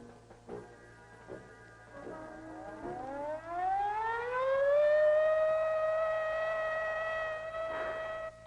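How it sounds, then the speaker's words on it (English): A civil defense attack warning siren starts low and climbs steadily to a loud, sustained wailing tone, then holds and drops off near the end, with no voices over it. "Attack warning came at 20:15 hours."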